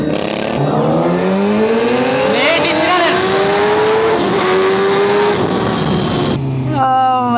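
A student-built go-kart engine revving up through first gear, loud and close with a rising, sweeping engine note that climbs and drops again, plus a person talking over it.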